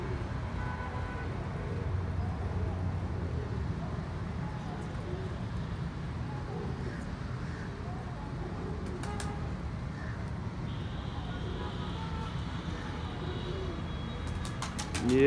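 Soft, low pigeon cooing murmurs steadily over a quiet outdoor background with distant traffic hum and faint clicks.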